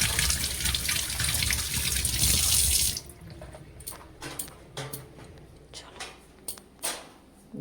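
Apples get rinsed under a running tap, with loud gushing water for about three seconds. Quieter splashing and handling follow, and a dog may bark faintly.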